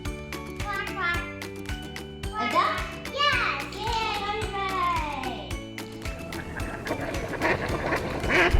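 A voice and lively music fill the scene as short quacking calls pop up in quick bursts, close and bright amid the chatter.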